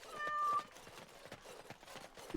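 A single cat meows once in the Dragon Age Origins: Awakening video game, a short clear cry over quiet, busy game background noise.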